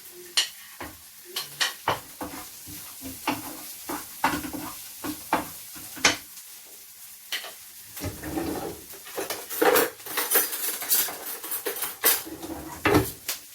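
Chili being stirred into a seafood curry in a pan, with a metal utensil scraping and clattering against the pan in irregular bursts over a soft sizzle of frying.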